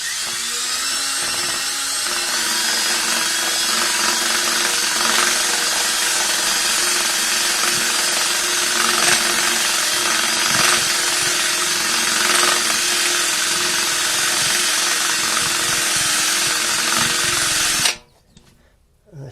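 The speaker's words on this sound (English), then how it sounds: "I'm going to see how much of that I can get with this drill here and this little buffing wheel" A drill fitted with a small buffing wheel grinds a ridge off a big truck's brake part, a loud, continuous high-pitched whine with some wavering in pitch, running steadily before it cuts off abruptly near the end.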